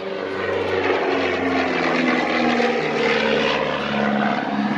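A small propeller aeroplane's engine, on a wooden-airframed Gemini at East Kirkby Airshow, drones steadily and loudly, a continuous buzzing hum with a slight wavering pitch.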